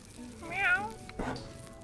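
A cat gives a single drawn-out meow while being rubbed with a rubber duck, followed by a short rustling scrape, close and fairly clear.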